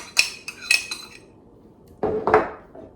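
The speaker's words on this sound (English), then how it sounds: "Now we're going to stir that up" Stirring chicken and apricot salad ingredients in a bowl: a quick cluster of light utensil clinks against the bowl, a short pause, then a second louder burst of scraping and clinking.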